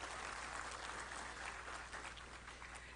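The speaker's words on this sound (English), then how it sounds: "Let's have a huge round of applause for Dr." A seminar audience at an anti-human-trafficking awareness event gives Dr. P.M. Nair a round of applause, a thick, continuous wash of clapping that stays level and slowly eases off toward the end.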